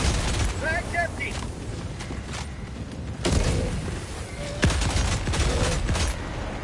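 Bursts of heavy gunfire and explosive impacts in Helldivers 2, loud, dense, continuous shooting with sharper booms at intervals, mixed with voices talking.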